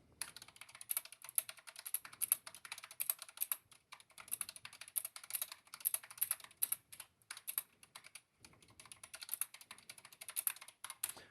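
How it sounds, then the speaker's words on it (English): Steady, rapid clacking of keys on a mechanical keyboard with brown switches, close to the mic, with brief pauses in the typing rhythm. "I use a keyboard with brown switches, and it's mechanical, so it can be kind of loud"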